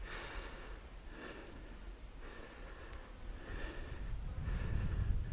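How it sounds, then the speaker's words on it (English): Heavy breathing from a hiker climbing uphill toward a lookout tower on Ólom-hegy in Hungary, a series of rhythmic panting breaths about once a second, close to the microphone, with wind rumbling beneath. "Apologies for the heavy breathing"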